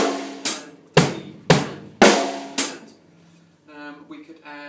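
A drum kit plays a simple beat, with five sharp, evenly spaced hits ringing out and decaying, followed by a quieter tonal pattern at the end.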